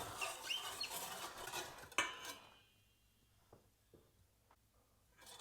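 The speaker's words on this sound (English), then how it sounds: "So, and I'll whisk this stuff." Dry salt and flour whisked in a bowl for bread dough, a busy scraping and clinking of the whisk against the bowl for about two seconds, then a sharp knock and only a few soft scattered taps afterward.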